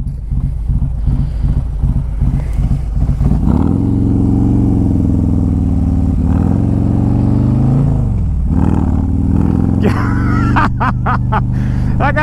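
130 cubic inch Road Glide motorcycle thumps at a lumpy idle, then roars hard as it accelerates through gears, loud and close, with wind noise and a voice talking over it.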